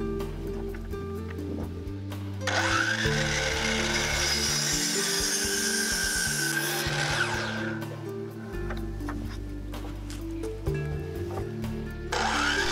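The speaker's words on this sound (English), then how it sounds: "Adjust the miter saw back to 45 degrees and cut the angled end of the 2x6." A miter saw set to 45 degrees spins up and bites through the angled end of a 2x6 board, a loud steady whining cut lasting several seconds before the blade winds down, with no talking.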